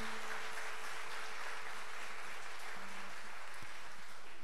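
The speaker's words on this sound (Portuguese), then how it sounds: "Aplauda Jesus, aplauda ele," A church congregation at a triduum festival Mass for São Severino Mártir claps for Jesus, a faint, even wash of many hands heard from a distance, with a low steady hum beneath and no voices.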